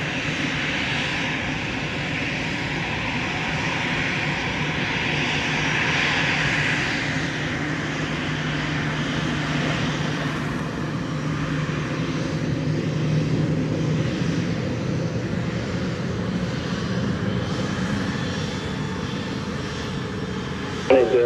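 A fixed-wing airliner roars steadily for the full stretch at Montego Bay airport in Jamaica, a loud sustained engine drone rising in hiss mid-way, with no talk over it.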